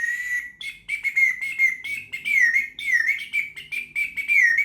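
A water-filled bamboo bird whistle trills continuously and fairly loudly with warbling, bird-like whistles, rising and falling in quick chirpy bursts with a watery bubbling edge.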